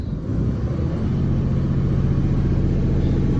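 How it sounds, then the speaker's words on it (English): A Freightliner Business Class truck's Cummins ISB 6.7 diesel, which has a fault code and fuel knock, held at full throttle. It gives a loud, steady, low rumbling drone that keeps on without a break, with no talk over it. "you just gotta floor it"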